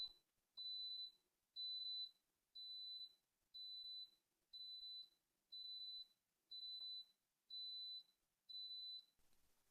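An Instant Pot Duo Plus pressure cooker signals the end of cooking with ten evenly spaced high electronic beeps, each lasting about half a second with short gaps between, clear and alone in a quiet room.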